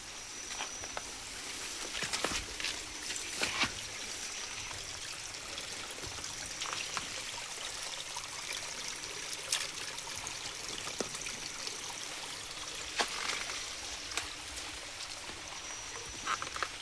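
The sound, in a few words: flowing water of a stream or waterfall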